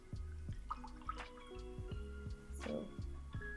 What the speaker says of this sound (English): Then I'll rinse it in water.